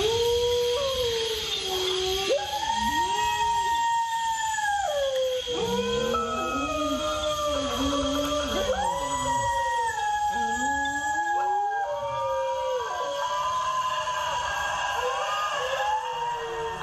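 Several dogs howl at night in long, overlapping, rising and falling wails that continue without pause, loud and close, with no talking.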